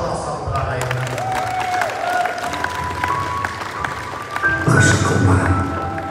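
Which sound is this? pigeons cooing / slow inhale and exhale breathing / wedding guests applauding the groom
wedding guests applauding the groom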